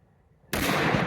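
A Winchester Model 70 .30-06 rifle fires a single sharp, loud shot after a near-silent pause, followed by a sustained broad roar and echo.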